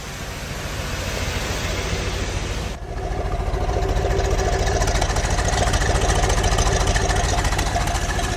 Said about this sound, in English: Dual chrome exhaust, producing a nice hefty note.